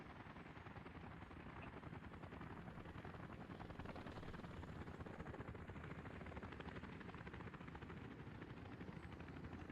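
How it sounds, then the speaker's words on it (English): Continuous rhythmic rotor chop of a helicopter in the city-building game Workers & Resources: Soviet Republic, a dense, even thrum that stays faint and steady throughout with no voices over it. "when I'm zooming in on a chopper or something like that"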